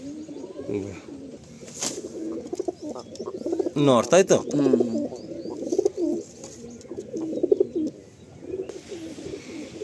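Madrasi pigeons in a loft in Rajarhat, Kolkata, with soft coos and low throaty calls that rise and fall over about ten seconds, mixed with a few chirps, and a man's speech often over them.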